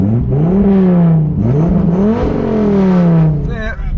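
A powerful sports car engine revs up and down repeatedly nearby at a car show, loud rising and falling roars with a whining note, ending in a short sputter.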